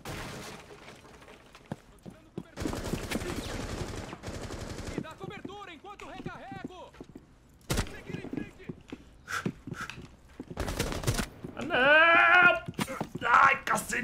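Gunfire crackles in the tactical shooter Rainbow Six Siege, with bursts of shots scattered among other game sounds and someone talking excitedly in between.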